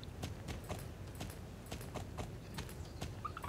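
Horse hooves clip-clop at a steady walking rhythm in the online horse-riding game Star Stable Online, clear and evenly repeated over a low background hum, with no talking.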